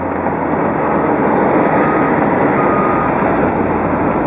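A 1973 Corvette convertible with a 454 engine and new headers, its exhaust a loud, steady, unbroken roar while driving, close and without talk.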